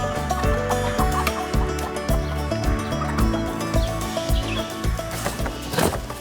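Several hens cluck in a henhouse, close and busy, with irregular clucks and short calls overlapping throughout, no voices.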